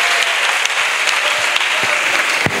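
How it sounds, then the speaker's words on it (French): Loud, steady applause from a church congregation acclaiming Jesus Christ, a dense wash of clapping with a few sharper accents and faint cheers, sustained without a break. "Acclamation à Jésus-Christ"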